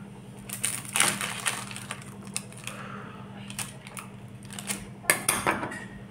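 A knife and utensils cut into a baked chicken-and-mushroom dough dish with light dough, making crisp crunches, scrapes and clinks on a plate in irregular bursts, with a steady electrical hum underneath and a few quiet words.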